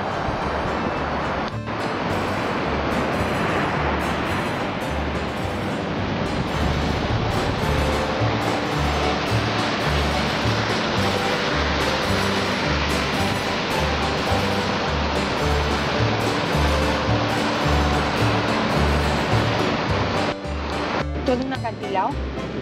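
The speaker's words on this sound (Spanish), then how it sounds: "Y esta es la playa en enero." Winter surf on an Ibiza beach in January, where waves wash in with a continuous rushing roar and wind while people talk over it.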